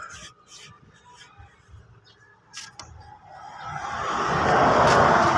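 A car engine idles low and steady, then grows louder and fuller as it revs toward the end, heard close by with no speech over it.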